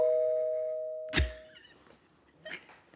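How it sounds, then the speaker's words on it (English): A doorbell sounds one sustained electronic chime at a conference and book launch event. A sharp thud follows, then faint scattered noises in a quiet room. "Did y'all hear the doorbell?"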